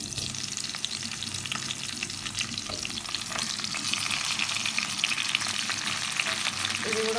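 Tomatoes frying in oil with chillies in a pan for tomato pachadi, a steady close crackling sizzle running throughout with light stirring scrapes, growing slightly louder toward the end.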